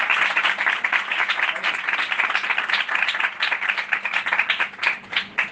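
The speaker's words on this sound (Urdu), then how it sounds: "سسٹر نیہا کے لیے ایک بار زوردار تالی." A congregation at a Christian gathering applauds loudly for Sister Neha, with dense, bright, close clapping sustained throughout, its rhythm growing more uneven as it tapers near the end.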